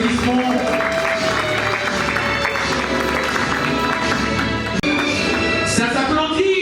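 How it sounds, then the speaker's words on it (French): Dense, sustained applause fills a hall at a certification ceremony for graduates in Togo, with crowd noise and a voice carrying over the clapping throughout. "L'accueillir avec une tournée d'applaudissements."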